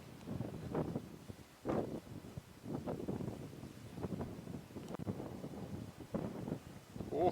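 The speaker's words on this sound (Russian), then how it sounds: "Да, ветер с моря." Strong cold wind off the sea on an evening Yalta seafront during a winter storm buffets the microphone in loud, irregular gusts, with low rumbling roar and occasional rustling throughout.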